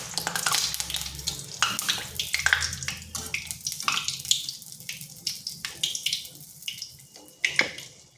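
Poa pitha, sweet fritters made from semolina and flour, deep-fry in hot oil with a dense, close crackle and bubbling, punctuated by sharp spitting pops. No one speaks.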